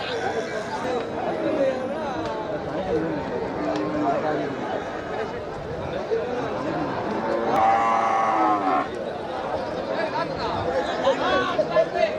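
Cattle and calves low and moo repeatedly amid a busy crowd of chattering voices at the Melapalayam cattle market, the animal calls rising above steady background talk.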